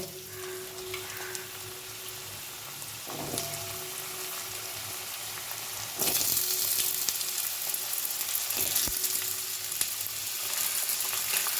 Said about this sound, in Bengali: কড়াইতে তেল গরম হয়ে গেছে, প্রথমে আলুগুলো ভেজে নেব।